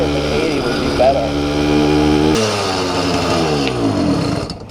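A Dio scooter engine fitted with a Reed YD100 carburetor, under tuning after a jet change, revs loud and close, its pitch rising and falling through throttle blips before dying away at the end.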